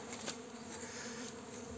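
Stingless bees (Uruçu amarela) swarm around wooden hive boxes, a close, continuous buzzing hum with individual insects passing near, steady throughout without speech.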